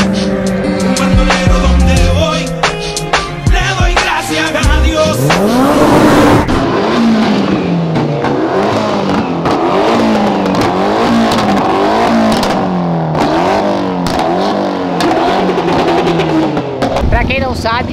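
Loud, close race car engines rev and accelerate hard at a drag race, including a Porsche, with rising and falling gear-shift sweeps, a brief tire squeal, and voices mixed into the roar throughout.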